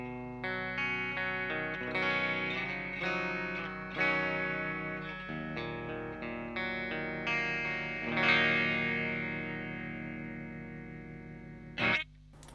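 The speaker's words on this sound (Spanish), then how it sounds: "Ok, vamos con mi sonido limpio." An electric guitar on a clean tone, without an EQD Interstellar Orbiter pedal engaged, plays a slow series of ringing chords and notes that sustain and decay, heard alone at moderate level.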